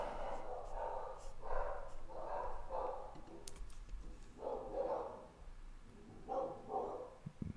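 A pet dog at home gives several muffled, gruff barks and snorts in irregular bursts. It is fairly close but not loud.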